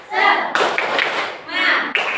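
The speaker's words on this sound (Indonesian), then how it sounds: "Untuk menambah semangat kalian dalam belajar, kita melakukan tepuk semangat ya." A classroom of children doing the tepuk semangat chant, with bursts of rhythmic hand clapping mixed with shouted voices, loud and close, in short repeated phrases.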